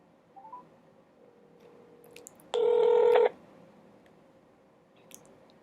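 Telephone dialing tones from a call being placed back after a hang-up: a short steady burst of touch-tone beeps, loud and close, with faint room noise before and after and no talking.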